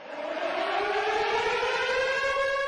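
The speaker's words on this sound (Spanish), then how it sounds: "el sonido de las sirenas que dice suenan por aproximadamente 20 segundos" Air raid sirens in Ukraine wail continuously, a loud sustained tone rising slightly in pitch and filling the whole stretch with no voices.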